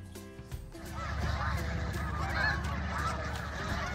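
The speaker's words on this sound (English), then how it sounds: "the snow geese have returned to Malone Rec Park in the northern reaches of Franklin County" A large flock of snow geese honks continuously at a park in Franklin County, New York, a dense overlapping chorus of many birds, fairly loud and steady after a quieter start.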